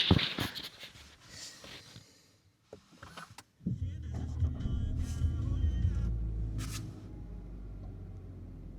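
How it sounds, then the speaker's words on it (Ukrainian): A 2025 Skoda Octavia sedan's engine cranks and catches, then settles into a low, quiet, steady idle rumble after a few quiet clicks and knocks. "зразу послухайте, як е, заводиться автомобіль"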